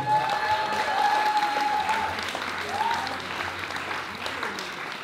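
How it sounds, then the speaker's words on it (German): Audience applause at a junior hip hop dance battle semifinal, a steady dense wash of clapping throughout with a faint tonal whistle-like note over it. "Also nochmal eine Runde Applaus, bitte."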